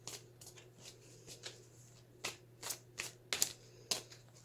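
Tarot cards being shuffled by hand, a series of soft riffles and sharper snaps, irregular and close, growing louder toward the end.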